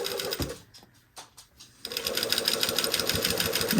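A sewing machine basts long stitches at 5 millimeter length, whirring in a fast rapid rhythm, then a short pause with a few isolated clicks before the steady loud stitching resumes.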